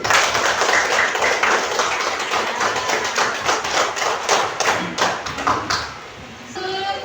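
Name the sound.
clapping for group 1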